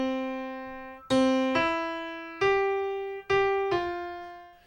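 Eight sustained piano notes in a simple melodic phrase, each struck note ringing and decaying into the next, some in quick pairs and repeated pitches, played alone without any talking.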